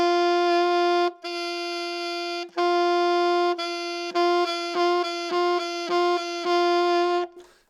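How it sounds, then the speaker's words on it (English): Middle D on an alto saxophone, switching between the regular and an alternate fingering: a few long held notes, then a quicker run of short repeated tones with brief gaps, all solo and close with no voices. "So alternating between the regular fingering for middle D and this alternate fingering, that sounds like this."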